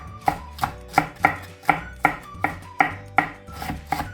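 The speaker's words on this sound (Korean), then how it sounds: "이거는 갈리기 소홀하게 그냥 잘잘하게 썰어 주시면 돼요." A small onion being finely chopped with a knife on a cutting board, about eleven evenly spaced, crisp chops in a steady rhythm, close and clear, with no talking.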